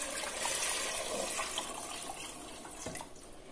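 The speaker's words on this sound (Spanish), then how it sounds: "ahora le pongo el agua" Water pours into a cooking pot for arroz caudetano with beans and cardoon leaves, a continuous splashing, gurgling stream heard close with no talk.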